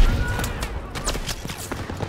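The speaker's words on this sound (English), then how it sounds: "They're shelling that beach to shit!" Artillery shells pounding a beach in the Call of Duty WWII video game, a dense jumble of booms and gunfire crackling continuously over a rumbling battle bed, with faint voices in the mix.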